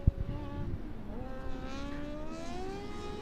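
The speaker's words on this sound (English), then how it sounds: "Here come our autocross buggies round" Autocross buggies at Mondello Park rallycross circuit drive round with engine drones rising and falling in pitch, several motors layered at mid distance, with a brief loud knock at the start.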